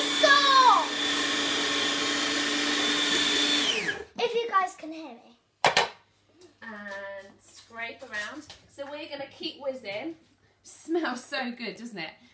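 A blender whizzes a homemade chocolate Nutella spread with oil in a loud, steady whir for about four seconds, then cuts off, followed by people chatting in a kitchen.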